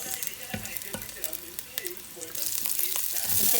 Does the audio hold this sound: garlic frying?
yes